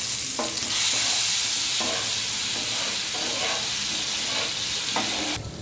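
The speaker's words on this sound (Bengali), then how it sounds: "মশলাটা আমি তেলের মধ্যে দিয়ে দেবো। ভালো করে নেড়ে নেব।" Spice paste stirred into hot oil for a Bengali bata fish curry, a steady loud sizzle running throughout with repeated scraping strokes of the spoon, no voices.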